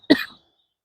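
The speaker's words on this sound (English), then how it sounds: "I'm coughing." A single short, sharp cough, close and fairly loud, followed by silence.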